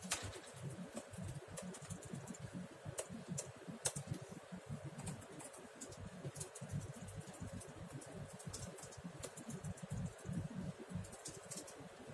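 Rapid, continuous clicking of a computer keyboard, fast irregular keystrokes tapping close by for several seconds with no talking.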